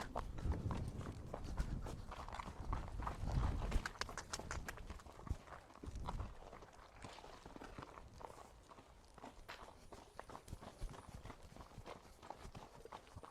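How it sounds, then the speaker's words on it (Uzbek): A young Karabair horse from Kyrgyzstan moving about, its hooves making a steady, uneven clip-clop of footfalls close by throughout, with a faint rustling background. "Mana hozir 5 o'tini yeyishni boshladi otimiz"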